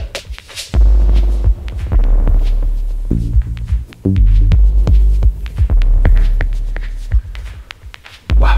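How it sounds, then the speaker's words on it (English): A deep, loud TB-303 synth bass line throbs over a booming kick drum in a steady electronic groove, with no voices. "I love this kick that I create."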